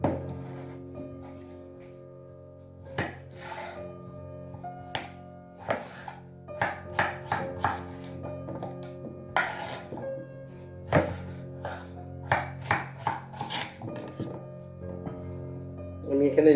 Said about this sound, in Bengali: আমি এই যে গোটা আলুগুলো দেখতে পাচ্ছেন, এটা সিদ্ধ করতে একটু সময় লেগে যাবে, আর তাড়াতাড়ি করার জন্য আমাকে একটু কেটে নিলে সব থেকে বেটার হয়